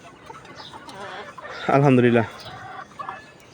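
Caged laying hens cluck in a single loud, close burst, with soft talk before and after.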